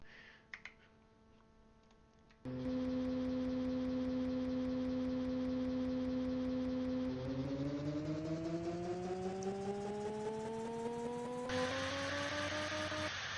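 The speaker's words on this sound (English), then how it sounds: "Okay, so those engines are creative, so now I don't have to worry about fuel, so I should be able to start these just fine" Vehicle engines in the Minecraft mod Immersive Vehicles start after a few clicks, then settle into a loud steady buzzing drone that climbs smoothly in pitch as revs build, with a second engine layering on near the end.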